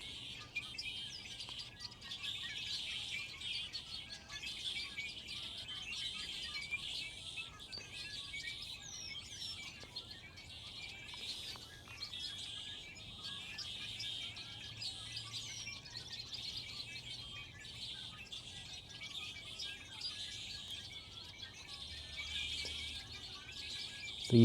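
Small birds chirp and tweet faintly at a distance, with repeated high calls over quiet outdoor background noise.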